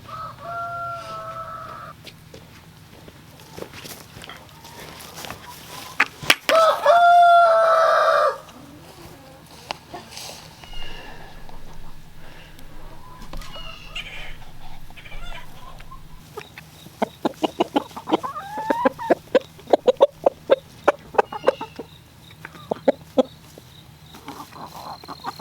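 Pastured layer hens cluck on and off over a steady low hum, joined by one loud, drawn-out squawk and a later run of quick, sharp clucks close by.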